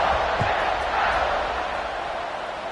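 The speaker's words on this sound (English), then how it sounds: "this crowd is buzzing after that last score" A football stadium crowd buzzes after a touchdown, a steady broad murmur of many voices filling the space at a constant moderate level with no single voice standing out.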